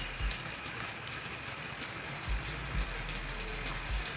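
Hot water pours and gushes steadily into a pot of rice during home cooking, a soft continuous splashing stream with a few low thumps, fairly quiet and without talk.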